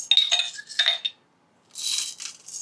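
Kenya Masai coffee beans pour into a coffee grinder in two quick rattling bursts, a short silence, then a softer scattering clatter as more beans drop in, close and clear.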